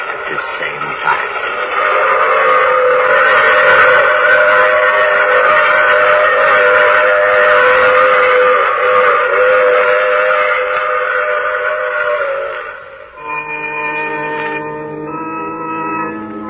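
A steam train sound effect from an old radio drama, a loud, steady rumbling whistle-like tone sustained for about twelve seconds, then shifting to a higher, brighter multi-note whistle near the end.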